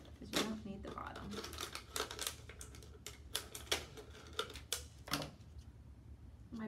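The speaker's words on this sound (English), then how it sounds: "You kind of pinch the water bottle a little bit and use your scissors to cut it" Scissors snip and crunch through a thin plastic water bottle in a run of sharp, uneven cuts and crackles, close up and fairly quiet.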